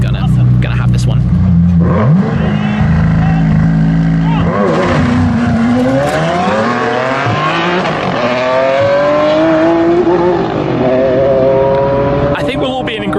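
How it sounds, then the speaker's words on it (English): A McLaren Senna and a Ferrari Enzo hypercar accelerate hard in a drag race, engines roaring loudly as rising gear sweeps climb, drop at shifts and climb again, with a brief squeal at the start. "I think we'll all be in agreement that the Enzo wins the sound contest, but the Senna definitely won the drag race"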